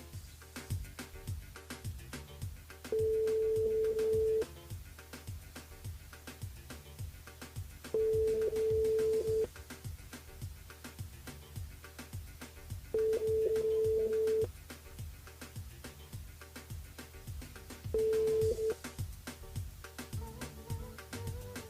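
A telephone line rings out during a call-in segment of a morning radio show, with four evenly spaced ringing tones of over a second each repeating about every five seconds, over a steady rhythmic background music bed.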